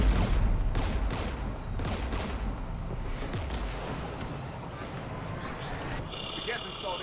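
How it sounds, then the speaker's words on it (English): Anti-aircraft guns fire in the video game Mass Effect 3 beside a jamming tower, sending a rapid rattle of gunshots and heavy thumping bursts under a rumbling engine drone, with a voice talking during the barrage. "We're taking fire."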